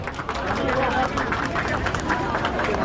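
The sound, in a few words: loud audience applause at Independence Day programme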